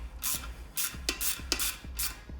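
The chain adjuster on a Honda CB1100EX motorcycle's rear wheel is turned with a tool, giving about six short, close scraping rasps at an uneven pace.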